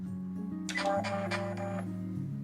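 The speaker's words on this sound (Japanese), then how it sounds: "そしたらもうあとは一斉にロックミシンをかけていきます。" A Juki MO3000 overlock serger runs steadily, close and alone, its motor hum and rapid stitching clatter sewing a dress seam.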